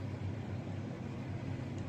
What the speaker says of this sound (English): Fiat that's really driving fast.